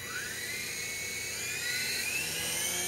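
Titan T505 RC helicopter spinning up for a hand takeoff, a high, thin motor whine that rises and holds steady close by, with no voices.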